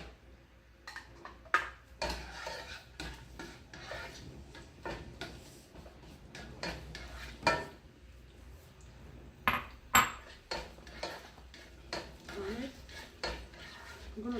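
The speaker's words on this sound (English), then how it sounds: "Now I'm going to turn my onion" Onions frying in a pot for chicken curry are turned and stirred, a utensil clinking and scraping against the metal in irregular close taps and knocks over a faint background.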